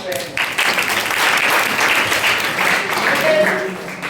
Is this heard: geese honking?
no